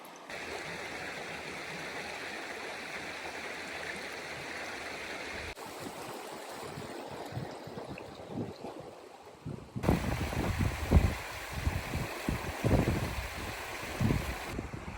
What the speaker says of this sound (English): Right over here, we are next to the Gila River.